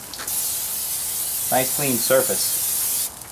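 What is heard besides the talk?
Pam cooking spray sprayed onto barbecue grill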